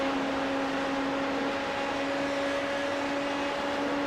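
A Dallara P217 LMP2 car's 4.2-liter V8 in iRacing at Circuit de Spa-Francorchamps, holding a steady, loud engine drone with sustained tonal hum and no pitch changes.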